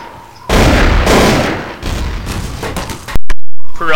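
Loud gunfire in Counter-Strike: Source, a burst of rapid shots and heavy booms that cuts off abruptly, followed by a short distorted blast.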